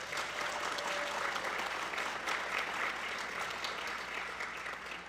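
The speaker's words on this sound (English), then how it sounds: "Give Chuck a round of applause." A round of applause for Chuck Ellens, a remembered ambassador, at a sell-a-thon gathering: sustained, dense clapping from a crowd, even and continuous throughout.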